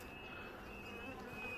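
Honey bees buzz steadily on a crowded hive frame, a soft, continuous hum with a thin high whine over it, close and even throughout.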